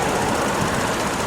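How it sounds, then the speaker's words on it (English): A steady, close, loud engine idle at about 700 RPM with a rough, even mechanical clatter and no gaps or talk. "She's idling normal,"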